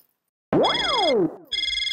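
A phone ringtone plays a sweeping electronic melody, then breaks into steady beeping tones, loud and close with no talking.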